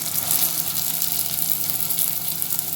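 Stuffed wheat-dough snack frying in hot oil, a steady, bright sizzle with fine crackling throughout, close and fairly loud, with no speech.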